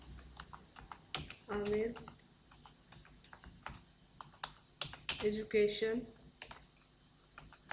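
Light, quick clicks of typing text on a computer keyboard, an irregular patter of keystrokes close by with a few sharper taps, under a voice speaking briefly.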